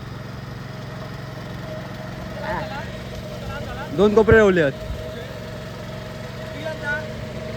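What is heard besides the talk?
tractor engine running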